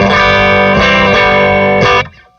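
A Silvertone electric guitar played through two amplifiers summed in phase gives loud, distorted sustained chords, several struck in a row before ringing out and fading, with no talking.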